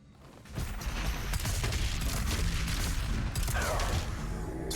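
Rockets fired in a first-person shooter video game during a boss fight, a dense, continuous barrage of booming blasts and explosions that swells after the first half second and stays loud throughout.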